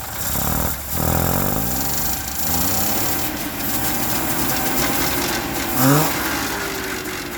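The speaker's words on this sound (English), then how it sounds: "Give her a little throttle here." A car engine, recently fitted with a new exhaust, is given a few throttle blips, rising and falling in pitch close by with one sharper rev near the end; no one speaks.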